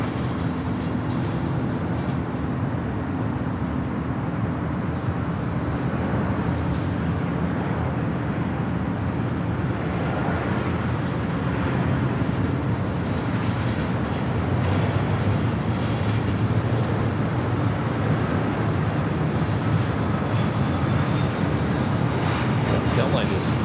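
An airliner landing on runway 24 Right at Los Angeles International Airport makes a loud, continuous roar. The deep rumble holds steady across the whole stretch, with broad turbulent noise and no pauses.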